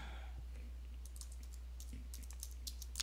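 Soft, close typing on a computer keyboard at a Linux terminal, a short burst of light key clicks in a quiet room.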